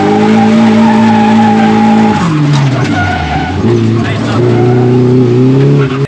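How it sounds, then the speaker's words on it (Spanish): A Nissan S14 drifting as its tires skid and squeal continuously, the engine droning loud and close throughout, its pitch dropping and wavering as the car slides. "Tú aquí le pegas una picada al embrague y dejas que deslice."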